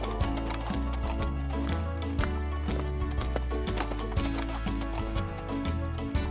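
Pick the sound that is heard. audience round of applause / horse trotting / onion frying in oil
horse trotting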